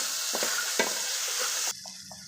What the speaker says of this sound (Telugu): ఇంకా కొంచెం ఒక ఐదు నిమిషాలు ఫ్రై అవ్వాలన్నమాట ఇంకా కొంచెం పచ్చిగా ఉన్నాయి మష్రూమ్స్